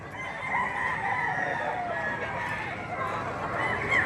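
Ten-month-old Hennie Blues chickens cluck and murmur at close range in a busy yard, with a faint, drawn-out crow, while people talk nearby.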